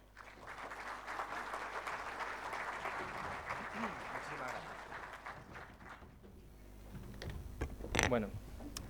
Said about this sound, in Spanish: recibimos con un caluroso aplauso a Álvaro Jesús del Blanco